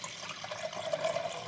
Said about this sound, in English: So let's add some water to this.